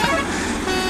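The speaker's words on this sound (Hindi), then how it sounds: "टोट टोट जो हॉर्न लग रहा है ना, वो बड़ा मस्त हॉर्न लग रहा है।" A steady electronic-sounding truck horn in a video game blaring continuously for about a second, loud and close, over engine rumble.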